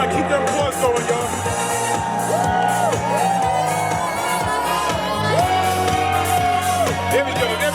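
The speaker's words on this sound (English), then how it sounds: "keep that applause going, y'all." Wedding guests at a farm venue in Pennsylvania cheer and shout for the newlyweds, a steady crowd roar with whoops and yells layered over loud music throughout.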